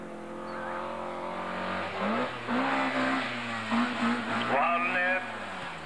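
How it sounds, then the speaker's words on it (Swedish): A Volvo 142 rally car accelerates hard up a hill climb, its engine revving and rising through the gears at close range. A commentator talks over it. "I en Volvo 142 som är på väg upp."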